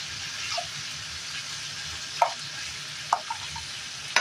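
Potato pieces dropped into a pot of simmering beef finger ribs for a Chinese-style dish, with a steady frying sizzle and a few sharp clacks of a utensil on the pot, no talk.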